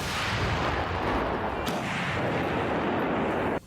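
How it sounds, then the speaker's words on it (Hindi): A Russian 2S7 Malka self-propelled artillery cannon fires, giving a loud, broad blast that rolls on as a long rumbling roar before cutting off abruptly, with no voices. "तोप से गोला छूटते ही वहां ऐसी तेज आवाज हुई मानो बिजली गरजी हो।"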